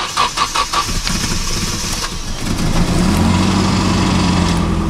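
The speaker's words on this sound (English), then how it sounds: "Old car, we're gonna give it a cold start." A Nissan S13 240SX engine cold-starts: a few rhythmic cranking pulses, then it catches and settles into a loud, steady idle close by.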